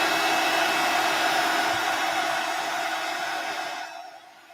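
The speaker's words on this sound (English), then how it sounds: "Just going to dry off the metallic now." A heat tool blows steadily to dry metallic paint on a journal page, a loud continuous whooshing hiss that holds for about four seconds before tapering off as the tool is switched off.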